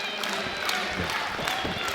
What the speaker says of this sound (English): All right, Julian Young getting the crowd behind him here.